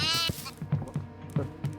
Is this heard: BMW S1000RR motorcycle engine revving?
no